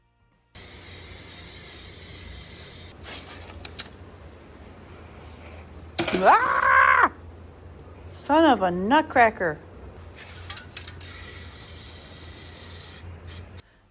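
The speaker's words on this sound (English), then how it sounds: "I spray painted it with this warm caramel" Caramel-colored spray paint hisses from an aerosol can onto a glued gingerbread craft in long, close, steady bursts, with a pause in the middle where a person exclaims.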